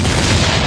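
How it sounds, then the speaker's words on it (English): A cannon fires as a sound effect during a live post-game show: one loud, deep, close boom that fills the whole short moment. "I will go ahead and fire the cannons"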